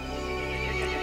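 A horse in the video game Resident Evil Village gives a sustained, harmonic neigh lasting about a second, loud and close against a steady background.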